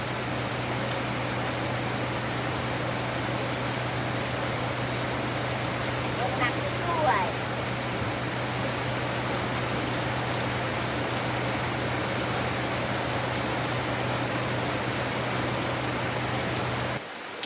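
Rain falls steadily in a cooking area where sticky rice is being steamed, a continuous even hiss with a low hum beneath, broken by a few faint clinks.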